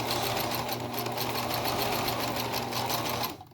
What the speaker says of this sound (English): and then you sew all the way down, get to around here, you can take out the bottom pin and sew across.